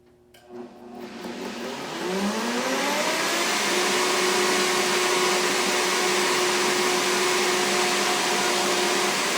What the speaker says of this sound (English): make sure that all the tahini is going to get blended in